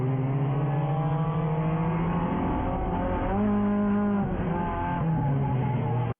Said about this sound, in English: Just listen to his engine.